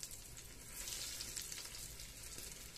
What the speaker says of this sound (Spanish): Y la voy friendo de 5 en 5.